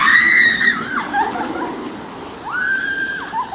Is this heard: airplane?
no